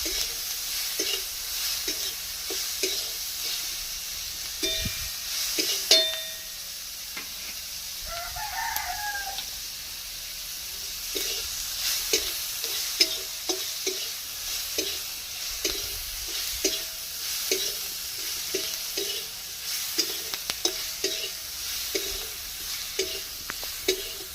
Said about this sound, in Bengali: পেঁয়াজটাকে লাল লাল ভেজে নেবে